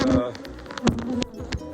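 Bees buzzing close by during a hive inspection, brief loud drones with a few sharp bursts as insects pass near.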